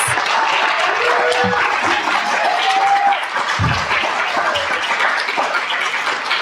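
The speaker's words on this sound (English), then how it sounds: "put your hands together because we can actually give a round of applause for all of our students" A loud, sustained round of applause with some cheering fills the hall at a state poetry recitation final, honoring the student competitors, dense and even throughout with a few whoops rising above it.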